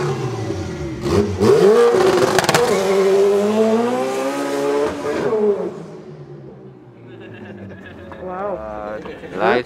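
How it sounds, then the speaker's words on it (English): A car engine revs up and down, rising and falling in pitch, loud and close, with some talking mixed in. "Show you the engine quickly"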